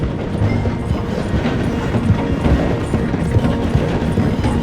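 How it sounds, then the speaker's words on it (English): A train in the video game Red Dead Redemption 2 rumbles steadily past while slowing through a station, with a dense clattering roar and rhythmic clickety-clack of wheels on track, loud and continuous throughout. "The train is slowing down to go through the station."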